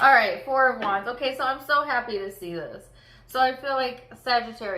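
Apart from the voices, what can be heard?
No everyday noise stands out behind the speech.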